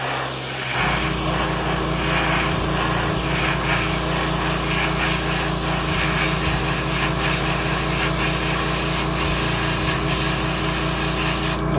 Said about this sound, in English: you're gonna go ahead and mist a thin layer on top.